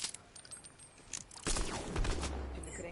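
Rapid gunfire bursts in the video game Fortnite, a sharp cluster of shots swelling louder midway and continuing with in-game clatter, no talk over it.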